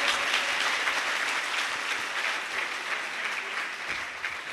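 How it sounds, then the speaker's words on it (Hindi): Loud, sustained applause from a church congregation welcoming Sister Sara to deliver a Christian sermon, a dense steady wash of clapping that holds throughout with no voices over it. "आपकी जोरदार तालियों में।"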